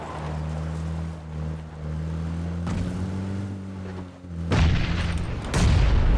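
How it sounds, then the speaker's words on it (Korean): A grenade bursts in a battle video game, a low booming blast followed by a second heavy burst over a steady droning vehicle engine hum. "수류탄 그냥 던져라"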